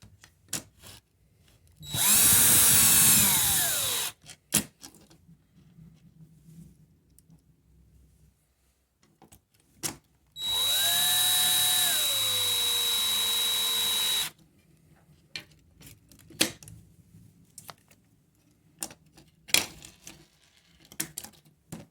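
A power drill drives screws into a plastic Quadtari kit case to hold down a circuit board, with two sustained whirring bursts of a few seconds each, separated by quiet handling clicks and taps.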